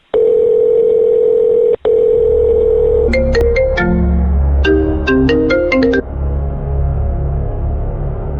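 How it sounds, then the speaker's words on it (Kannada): A phone ringtone plays loudly and alone: a steady electronic tone, a brief break, then a quick run of stepped melodic beeps over a low hum. "ಫೋನ್ ಬರ್ತಾ ಇದೆ ಅಣ್ಣ"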